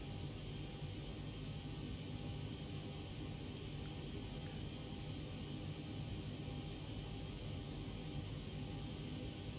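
The auxiliary power unit of a Zibo Boeing 737-800 in X-Plane 12, parked at Liège Airport, gives off a steady, unvarying whine and rumble that holds at a constant level throughout, with no voices.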